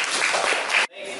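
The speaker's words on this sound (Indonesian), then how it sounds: "Kita beri tepuk tangan buat kelompok 2." Students in a classroom applaud a presenting group, a dense burst of clapping that cuts off sharply near the end, leaving a fainter murmur behind.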